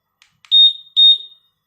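A keyless car remote's answerback sounds two loud, bright electronic beeps in quick succession after a couple of faint clicks, clean against silence.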